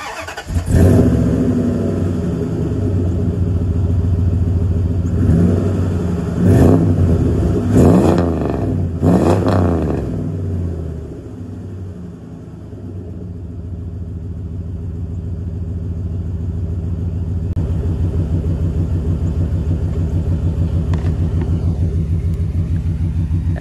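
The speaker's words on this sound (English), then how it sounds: "this has a very nice deep rumble to it that allows you to hear the cam to the engine" A car engine fitted with a Magnaflow muffler idles with a deep, steady rumble, the cam audible, a few sharp revs early on, then a lower, even burble.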